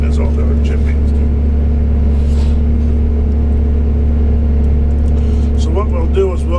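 A Western Star log truck's diesel engine idles steadily nearby, a constant low rumble throughout, with people talking over it.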